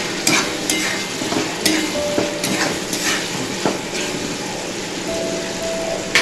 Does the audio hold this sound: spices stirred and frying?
yes